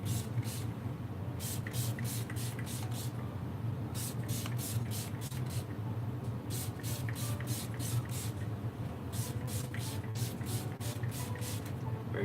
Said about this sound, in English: Let's spray it a little.